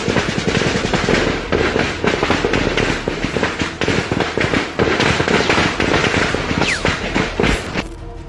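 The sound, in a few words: gunfire in a shootout in the hills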